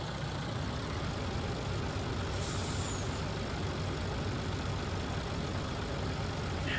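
A truck's air brake releases a short, sharp hiss midway through in Farming Simulator 19, over a constant loud, rumbling engine idle with no talking.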